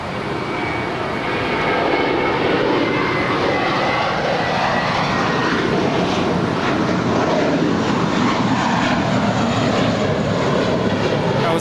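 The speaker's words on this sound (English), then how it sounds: "That was American 238 departing to New York." An American Airlines jet departs LAX for New York with a loud, steady engine roar that swells and holds, near and alone.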